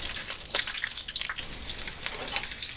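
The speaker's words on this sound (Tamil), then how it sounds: "இப்போ எண்ணெய் சூடாகிடுச்சுன்னா நம்ம இது கூட நறுக்கி வச்சுருக்க வெங்காயத்தை சேர்த்துக்கலாங்க" Steady crackling sizzle of onions frying in hot oil, with scattered pops and spits, continuous and fairly close, no voices.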